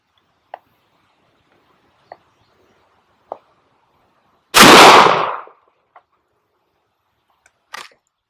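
A Rossi Tuffy .410 shotgun fires a single loud, close blast that rings out briefly, set among several sharp mechanical clicks and ticks of handling before and after the shot.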